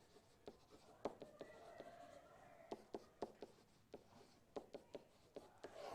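A pen or pencil scratches out equations by hand, a close, quiet stream of tapping strokes and scratches in irregular rhythm with brief pauses.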